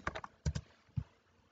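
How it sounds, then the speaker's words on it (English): Computer keyboard keys being typed in a quiet room, a quick burst of a few clacks, another short pair, then a single tap, close and fairly soft. "So if I type open where am I?"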